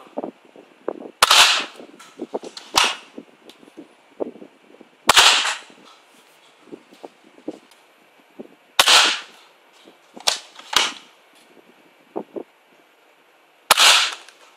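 Nerf Crossfire bow toy blaster, modified with support on the bow arm, fires foam darts in sharp snapping shots, some in quick pairs, spaced across the stretch with small clicks and handling noises between them.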